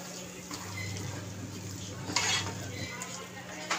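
A spoon stirs an onion, tomato and dal mixture for zunka in a pan, making soft, quiet scraping with a faint sizzle and one brighter clink against the metal.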